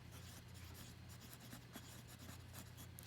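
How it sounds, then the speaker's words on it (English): Steady scratching of a pen on paper while a geometry line segment and its capital letter labels are written out, continuous and close, with a low background hum and no talking. "So let's write that down."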